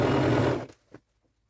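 A sewing machine double-stitching denim from a pair of jeans being made into a maxi skirt whirs loudly and steadily up close, then stops abruptly, followed by a couple of small clicks.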